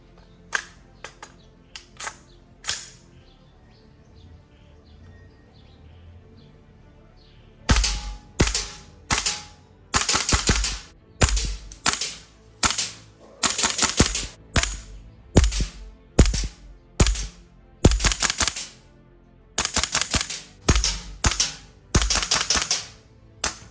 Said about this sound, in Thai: เรียบร้อยนะครับกับการยิงเซมิทีละนัด